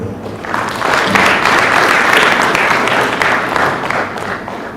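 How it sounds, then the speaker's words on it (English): A conference audience breaks into applause that swells quickly, holds strong and full for a few seconds, then begins to taper off. "Ladies and gentlemen, a big round of applause for Madam Sylvia Nanyambwe."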